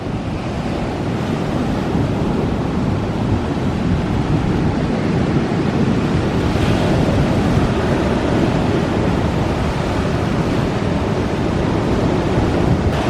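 Continuous roar of rough ocean surf at Myrtle Beach mixed with gusting wind buffeting the microphone, loud and unbroken throughout.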